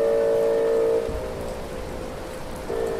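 Steady video game rainfall hiss from Islands: Non-Places with a sustained tonal hum on top, short and continuous, fairly loud.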